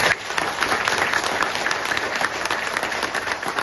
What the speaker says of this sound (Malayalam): അപ്പൊ ഇവിടെ ബിസിനസ് ചെയ്യാൻ വേണ്ടി ഒരു കയ്യടി തരുമോ?